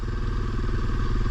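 A dirt bike engine revs loud and close under throttle, a continuous rough, rattling mechanical drone from a beginner's machine with the clutch held in.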